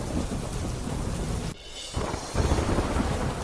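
Heavy rain pours down in Bhatiya village near Dwarka, a dense, loud, unbroken roar with brief dips in intensity and no voices.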